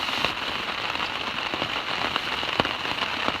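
Rain falls on a trail campsite, a steady patter of scattered drops with sharper individual taps striking close by.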